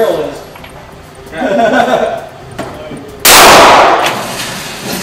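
A Kimber Solo CDP snub-nose pistol fires brass rounds: after some nearby talk, a sudden loud, sharp crack bursts out and leaves a dense ringing roar that lasts to the end.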